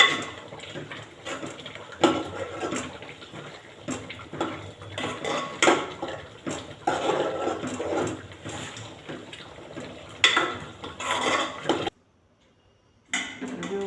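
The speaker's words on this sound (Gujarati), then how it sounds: "લાલ મરચું પાવડર નાખશું અને ધાણા જીરું પાવડર નાખશું આપણે સારી રીતે હલાવી લેશું" A spoon stirs red chili powder and coriander-cumin powder into a spinach muthiya mixture, with repeated close clinks and scrapes against a metal bowl, a few sharper knocks, and a short silent gap near the end.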